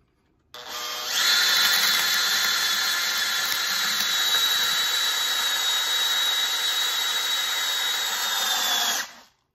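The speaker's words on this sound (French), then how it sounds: "tu vas t'arrêter quand ta perceuse va soit débrayer, soit elle va commencer à tirer" A cordless drill drives a SPIT EasyMix anchor capsule, first spinning up and then holding a loud, steady whine for about eight seconds before stopping abruptly.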